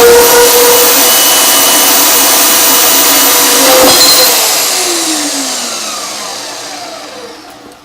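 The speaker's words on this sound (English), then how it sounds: "So it cut a nice piece of steel there." An Aldi Workzone 240v portable bandsaw cutting steel produces a loud, steady whining drone with a bright metallic edge. After about four seconds the motor winds down and the pitch slides away toward silence.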